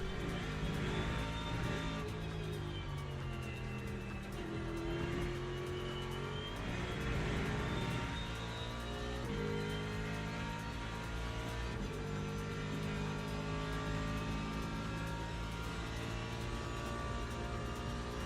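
A race car engine in a racing video game at Sebring revs and shifts continuously, its harmonics rising and falling with each gear change, loud and sustained without a break.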